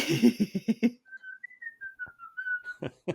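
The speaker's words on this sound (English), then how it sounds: "whistle something for me" Someone whistles a short wavering tune, a single clear sustained line with small pitch bends, bracketed by talking before and after.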